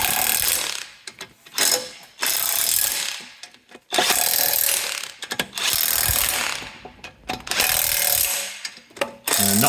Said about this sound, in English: you're then free to use your electric tool to get them in